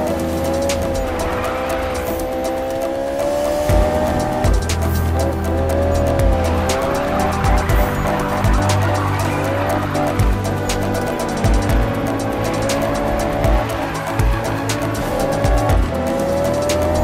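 Cars race in Need for Speed, loud engines revving and shifting with repeated tire squeals and skids over about seventeen seconds, with no voices.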